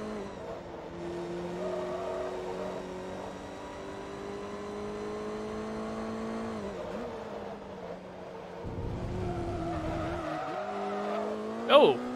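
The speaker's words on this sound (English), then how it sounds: "I have no clue why the hell the car just started to slide then" A race car in the Forza Motorsport 2 video game drones at high engine pitch, then slides with tires squealing and skidding before a brief sharp screech near the end.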